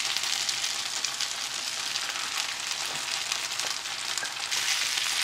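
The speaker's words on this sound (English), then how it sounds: "add the onions and mushrooms back into the fry pan" Onions and mushrooms sizzle with beef in a fry pan, a steady, close hiss of frying with faint stirring underneath and no speech.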